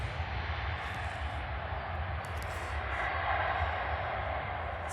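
A Ryanair airliner at Stansted airport gives a steady, loud jet roar with a broad rushing whine that swells slightly near the end, heard from nearby on the ground.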